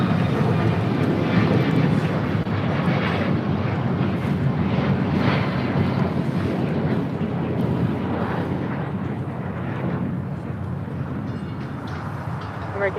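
A jet airliner roars down LAX runway 25 right on takeoff, a broad, steady rumble with wind buffeting the microphone, loud and continuous across the whole stretch.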